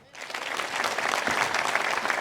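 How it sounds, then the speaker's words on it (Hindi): Audience at a political gathering breaks into applause, clapping swelling quickly from near silence into a thick, sustained roar of many hands. "उनके लिए तालियां बजाएं"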